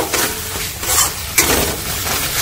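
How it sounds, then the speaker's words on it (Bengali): Meat masala powder is stir-fried in a pan with goat meat. Loud, close sizzling is broken by a few scraping stirs of the spoon against the pan, with no talking. "মিট মশলার গুঁড়ো দিয়ে ভালো করে একটু নাড়া দিয়ে 2 মিনিট কষিয়ে নেব"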